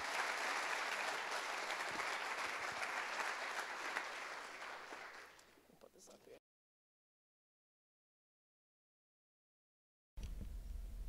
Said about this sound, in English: Give a big warm round of applause for my girl, Maddie Burke.